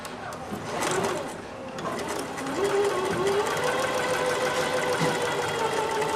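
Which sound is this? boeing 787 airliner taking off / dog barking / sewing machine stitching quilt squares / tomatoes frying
sewing machine stitching quilt squares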